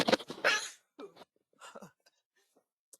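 A person sneezes once, a sharp loud burst at the start, followed by faint breathy sounds and small clicks in an otherwise quiet room.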